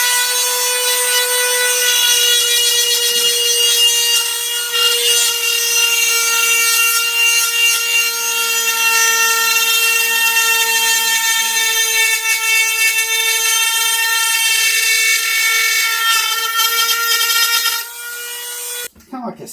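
A Dremel rotary tool carves the mouth of a gray fox taxidermy mount, giving a loud, continuous high-pitched whine with grinding texture that runs nearly twenty seconds before stopping.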